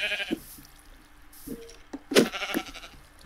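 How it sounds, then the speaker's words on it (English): A Minecraft sheep bleats several times at moderate volume, short wavering calls spread through the clip over quiet game ambience. "I can see a sheep right over here"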